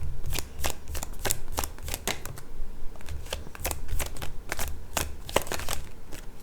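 Tarot cards shuffled by hand, producing a rapid run of crisp riffling snaps and flicks, close and continuous over a low background hum, with no speech.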